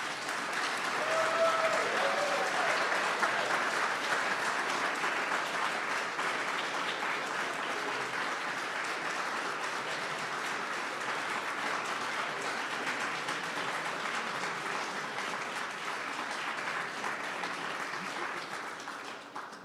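A large ceremony audience applauds graduating program completers, sustained dense clapping that stays loud and even for about twenty seconds before easing slightly at the end, with faint voices in the crowd.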